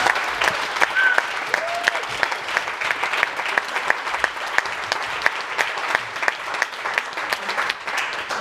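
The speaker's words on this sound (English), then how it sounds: "Let's have a round of applause for them." Audience applause at a festival talk, a sustained round of clapping from a crowd with sharp individual claps standing out, fairly close and steady throughout.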